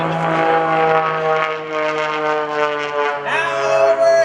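An Air National Guard MXS aerobatic airplane passing overhead at an airshow, a loud sustained propeller engine drone with a steady tonal hum that shifts pitch near the end.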